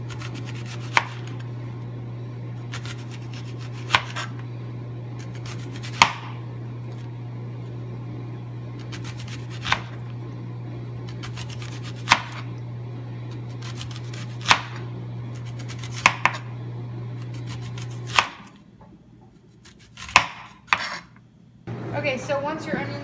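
Thin knife strokes through onions on a cutting board, a sharp tap about every two seconds over a steady low hum, then a brief louder clatter near the end.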